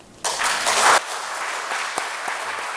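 Applause from a church congregation at a Korean church service honoring the choir, a dense burst of clapping that swells briefly then settles into steady, moderately loud clapping throughout.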